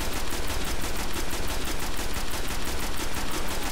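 Rapid automatic gunfire in the Destiny video game, a dense, evenly spaced stream of loud shots running without pause from start to finish.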